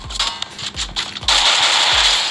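Rapid weapon fire in the Garena Free Fire mobile game, a loud, close burst of repeated booming shots followed by a sustained noisy blast.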